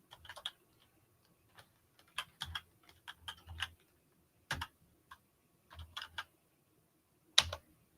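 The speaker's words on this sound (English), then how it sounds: "I'm gonna type it in here." Someone types on a computer keyboard in short bursts of close, crisp key clicks separated by quiet pauses, with no talking.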